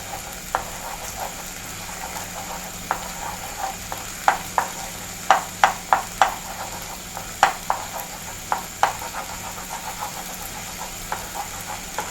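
Egg and onion are stirred in a frying pan for idli upma, with irregular clacks and scrapes of a spoon over a steady low sizzle and hum, close up and without talk.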